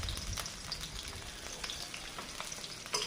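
Green chilli, cumin seeds and chopped onion frying in a pan, a soft steady crackling sizzle with small pops, fairly quiet and unbroken.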